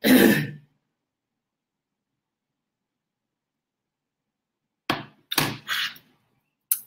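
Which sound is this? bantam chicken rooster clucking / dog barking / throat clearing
throat clearing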